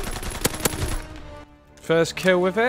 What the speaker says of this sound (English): we got this new SMG. Let's give it a whirl, shall we?